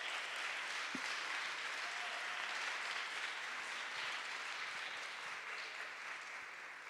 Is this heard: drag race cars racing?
no